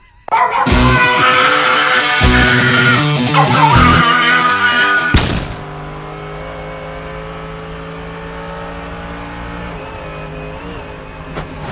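A race car engine screams loudly at high revs and breaks off in several sharp cuts, then a steady whirring hum carries on alone.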